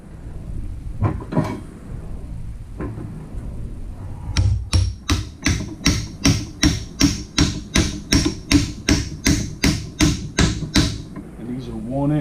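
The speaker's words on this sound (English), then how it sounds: "Try to beat it on with the hammer first." A hammer strikes a crusty valve in a steady run of sharp metallic blows, about a dozen evenly spaced hits, close and loud, after some quieter knocks and handling noise.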